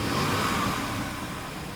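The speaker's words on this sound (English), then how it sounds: "I'm looking back at the rough running value of the engine because it's still running rough" A 2013 BMW 750Li xDrive engine idling rough with a suspected MAF sensor or injector seal fault, a steady close-up drone and hum holding evenly with no voices.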